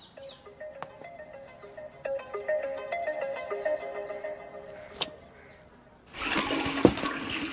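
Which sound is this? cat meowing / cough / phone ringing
phone ringing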